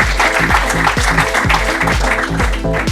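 Applause from an audience at a music-production master class, steady and dense, mixed with a thumping electronic music track with regular kick-drum beats throughout.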